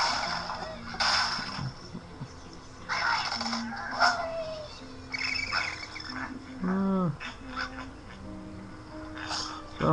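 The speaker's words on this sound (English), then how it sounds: "So that was Angry Birds." Angry Birds game sound effects playing from a Pandigital Star tablet: squawks, honks and cartoon bird calls in short separate bursts, with whooshes and a descending chirp, fairly quiet with gaps between them.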